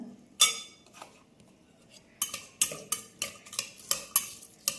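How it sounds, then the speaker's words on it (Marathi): Potatoes are stirred into ghee in a pan, a spoon scraping and clinking against the metal in a quick run of about eight sharp strokes after a quieter start, with faint sizzling underneath. "हे बटाटेसुद्धा थोडेसे या तुपामध्ये मिक्स करून घ्यायचे"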